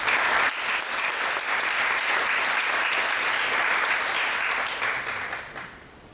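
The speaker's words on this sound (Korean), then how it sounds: "큰 박수로 맞이해 주시기 바랍니다." An audience at an architecture forum claps for an opening speaker, a dense, even round of applause that holds steady and then tapers off in the final second.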